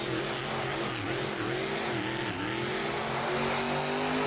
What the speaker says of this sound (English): Sliding that truck around.